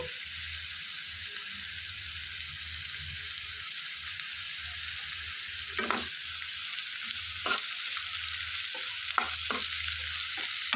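Continuous close sizzling of curry leaves frying in hot oil for a tempering, a steady crackling hiss broken by occasional sharp pops and spoon clicks.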